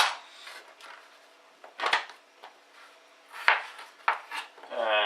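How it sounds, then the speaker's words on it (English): Vegetables being chopped on a wooden board while making a Spanish chicken and chorizo bake, a series of close, sharp knife strikes at an uneven pace, with no voices. "And just chopping these up now."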